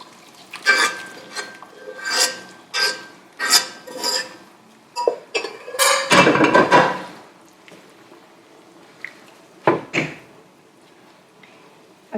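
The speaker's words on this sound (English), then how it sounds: "now keep stirring it for about 3 minutes" A spoon scrapes and knocks against a pan while dal makhani masala with boiled urad dal is stirred, in a series of rhythmic, close scraping strokes that thin out toward the end.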